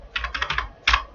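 Keystrokes on a computer keyboard during accounting data entry in Tally ERP9: a run of quick, close clicks followed by a single firmer press, like the Enter key, with no talking.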